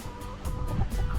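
Farm hens and a rooster around a chicken coop cluck in quick, overlapping bursts at close range, a busy low chatter filling the short moment.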